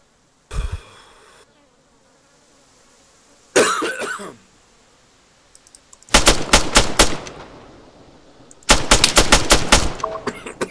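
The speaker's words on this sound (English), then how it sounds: "Dude, I'm getting shot at right now" Gunfire in the military shooter game Arma 3, Exile mode: a couple of isolated shots, then two loud, rapid bursts of automatic fire with crisp cracks, close and prominent with no talking.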